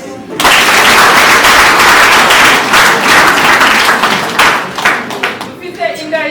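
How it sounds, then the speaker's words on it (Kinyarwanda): Wedding guests clapping together at a ceremony, loud dense applause that stays steady and then thins into scattered claps. "naho mubaha amashyi."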